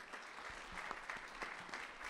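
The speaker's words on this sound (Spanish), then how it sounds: "Recibamos con un fuerte aplauso" A conference audience applauds to welcome a speaker at a BIM forum. The clapping is faint and distant, a steady patter of many hands with no talk over it.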